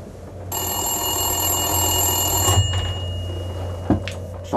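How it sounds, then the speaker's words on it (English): An old-style telephone bell rings indoors in a long, bright, continuous trill, then breaks off briefly and ends with a couple of short clatters. The ringing is close and fairly loud, with no talk. "The phone rings."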